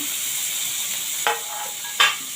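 Chopped onion and tomato sizzle in oil for a drumstick and potato curry, a steady close hiss broken by two sharp bursts of spatter or stirring.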